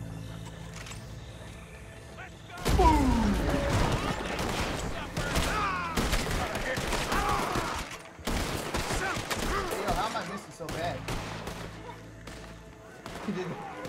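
Bursts of gunfire crackle from several directions in a Red Dead Redemption 2 shootout, loud, dense volleys with brief gaps, horse hooves and game voices mixed underneath.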